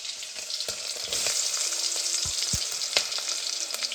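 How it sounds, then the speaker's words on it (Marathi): Garlic and hot green chillies fry in oil in a pan, a close, continuous sizzle with occasional stirring scrapes and small pops, no voices over it. "तर इकडे बघा आपली लसूणनी मिरची झाली फ्राय."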